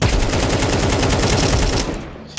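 Rapid automatic gunfire from Counter-Strike 2 during warm-up practice on a workshop map, a loud continuous burst of closely spaced shots that cuts off near the end, with no speech over it.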